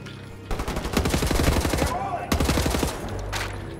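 Machine gun fire in the video game Wolfenstein The New Order: two long, rapid bursts of loud, close shots, separated by a brief pause, with some voice underneath.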